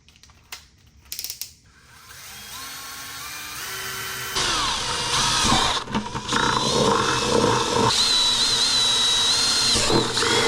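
A power drill whirs steadily through a 5-gallon plastic bucket for several seconds, preceded by a few short clicks and handling sounds, close and fairly loud.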